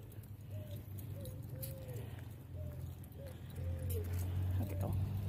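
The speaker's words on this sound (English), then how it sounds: "oh, that's a bird" A bird calls outdoors during a dog walk, giving a short series of soft, low cooing notes at moderate distance over a steady low rumble of traffic and outdoor background noise.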